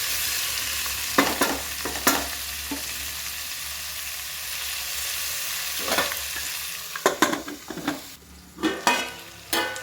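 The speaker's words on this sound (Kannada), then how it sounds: "ಹಾಗೆಯೇ ಟೊಮೊಟೊನೂ ಸೇರಿಸ್ಕೊಂಬಿಡೋಣ, ಅದ್ರ ಜೊತೆಲಿ ಬೇಯ್ಕೊಂಬಿಡಲಿ." Vegetables and tomatoes for vegetable biryani frying in a pan, a constant sizzle broken by clusters of sharp scraping and clattering stirs that grow busier toward the end, close and without voices.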